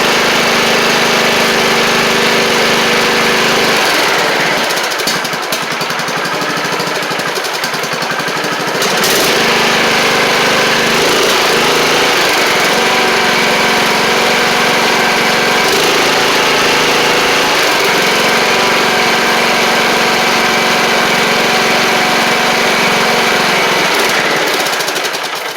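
A Columbia lawn tractor with a Powermore engine runs loud and close, holding a steady rough idle with uneven speed that sags and picks back up.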